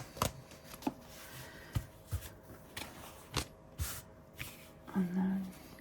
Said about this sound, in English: I'm just going to cut that,